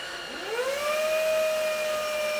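Lacidoll handheld cordless 4-in-1 wet dry vacuum cleaner switching on, its whine rising and settling into a steady, moderately loud high-pitched hum.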